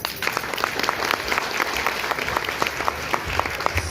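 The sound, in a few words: audience applause after a workers' play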